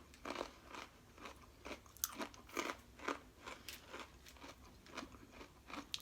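Crunchy snack mix with pretzels is chewed close up, a series of crisp, rhythmic bites and crunches, fairly quiet and with no talking.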